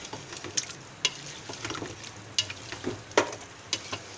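Cooking oil sizzles and crackles in a pressure cooker pot with sharp popping spatters and light stirring scrapes, close and steady, with no talking.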